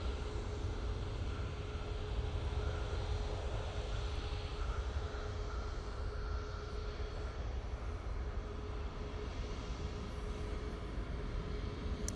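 Jet engines of an Aer Lingus airliner after landing at Manchester Airport, a steady broad roar with a faint sustained whine, heard from a distance with no speech.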